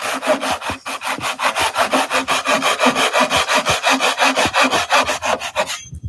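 A hand saw cutting wood for a bird box, loud close rhythmic back-and-forth strokes in an even fast tempo that stop abruptly near the end, no talking.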